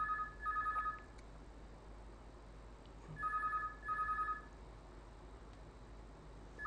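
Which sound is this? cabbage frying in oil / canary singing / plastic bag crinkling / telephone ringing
telephone ringing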